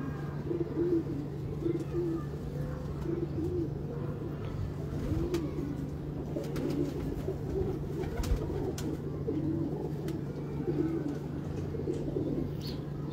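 Highflyer and breeder pigeons coo in soft, repeated low phrases, several birds near and far, over a constant low hum and faint background noise.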